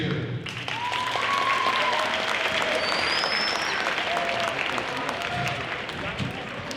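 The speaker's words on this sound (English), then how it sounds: "Give him a round of applause, Matthew Berry." School audience applauding a Southside Hawks basketball player and finalist being introduced, a sustained wash of clapping throughout with a few faint whistles on top.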